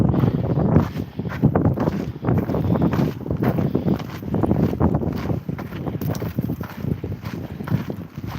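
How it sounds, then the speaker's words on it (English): Strong wind buffets the microphone outdoors at night, a steady loud roar with gusting surges throughout and no speech. "Oh, the wind is twisting me."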